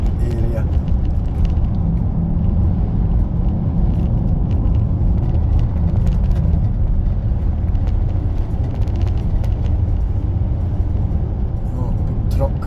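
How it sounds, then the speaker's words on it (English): A big skip truck drives past on a road, a loud steady low engine rumble lasting the whole stretch with someone talking over it. "Oh, big truck."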